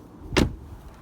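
Pulling a car's bonnet release lever, located low on the left inside the cabin, gives one short, solid clunk standing out against quiet background.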